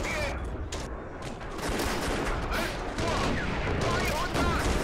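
Shot and explosion hitting a tank in the Steel Fury Kharkov 1942 video game, a loud, continuous rumbling barrage of gunfire and blasts with sharp onsets, sustained throughout.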